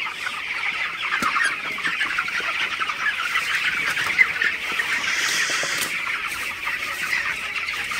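A flock of broiler chickens on a farm at night clucks and murmurs continuously in dense overlapping calls, with one sharper squawk standing out briefly.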